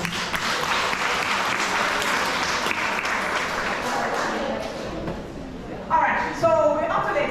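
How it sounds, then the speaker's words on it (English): Audience applause at a graduation ceremony in Jamaica, a steady wash of clapping from a large crowd that carries on for several seconds before thinning, with a few louder voices breaking through near the end. "Can you just please give yourselves a round of applause?"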